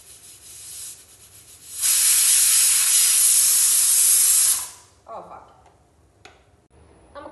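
Pressure cooker whistle while cooking fish biryani rice, a loud, steady hissing whistle of escaping steam lasting about three seconds, then fading to quiet kitchen clatter and a voice speaking.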